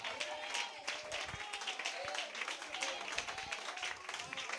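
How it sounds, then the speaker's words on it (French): A church congregation claps and cheers in a steady, faint wash of hands, with voices calling out over the clapping throughout. "Donnez-lui des mains d'acclamation."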